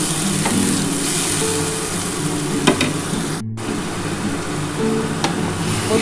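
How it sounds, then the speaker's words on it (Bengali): Spice paste with spice water cooks down in a pan for a pomfret and potato curry, a continuous sizzle under repeated stirring scrapes and clinks of the spatula, with no voices. "দেখো মশলাটা কিন্তু খুব ভালো করে কষিয়ে নিচ্ছি"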